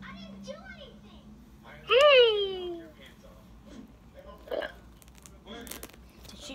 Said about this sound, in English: Sounds like she's throwing up. Stop burping.